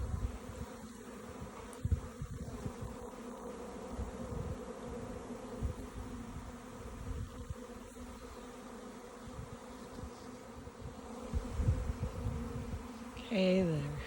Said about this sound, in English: they're buzzing around pretty good right now